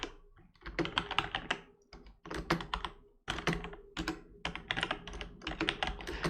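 A caption is typed on a computer keyboard, with quick bursts of close, crisp keystrokes separated by short pauses and a few heavier thunks.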